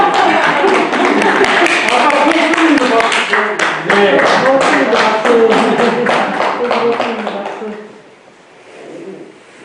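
Clapping in a Korean Won Buddhist temple study class, a short run of sharp, close hand claps with voices talking over them, fading out near the end into quiet room tone.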